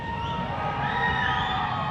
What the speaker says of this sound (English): Crowd picks up the noise.